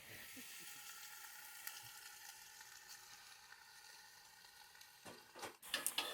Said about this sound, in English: they are transferred into a pot with the meat, usually mutton or goat, and the sizzle and steam is immediate